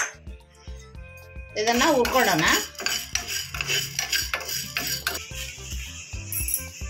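Dry chana dal being roasted without oil in a small pan: a bright rattle and clink as the lentils pour in, then repeated scraping and tapping of a utensil against the metal, close, while someone talks.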